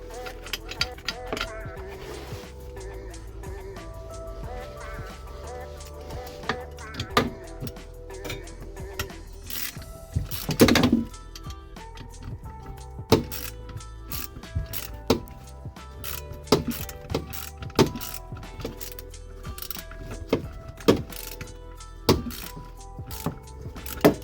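Spanner and ratchet working loose a pinch bolt on the gear linkage of a VW T4 camper, giving a series of sharp metallic clicks and knocks that grow more frequent in the second half, with a faint background hum.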